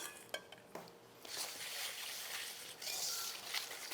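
Quiet scraping and stirring as sugar is mixed by hand into egg-yolk batter in a large bowl for a soft roll cake, opening with a few light taps, then a steady swishing wash.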